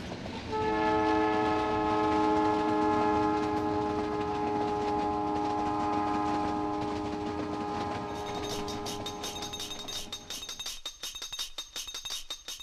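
The Palace on Wheels luxury train in India, heard as a long sustained horn chord sounding over a rolling rumble of rail cars, then fading into rhythmic clanking and wheel noise as it passes.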